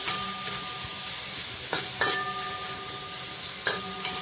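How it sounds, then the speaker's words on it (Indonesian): About two kilos of onion and ginger sizzle in a pan as they are stirred, a steady frying hiss broken by a few sharp scrapes and knocks of the utensil against the pan, with no speech. "Kita kacau dia sampai dia naik bau."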